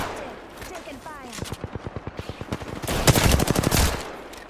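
Rapid machine-gun bursts crackle in a video game arena match, a fast stuttering stream of shots that swells louder toward the end, with a voice talking over part of it.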